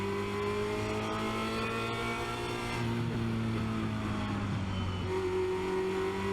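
A Formula Renault 2.0 race car brakes hard at Spa-Francorchamps, its engine loud and close as the tone drops and steps down through gears, with a steady droning roar and no talk.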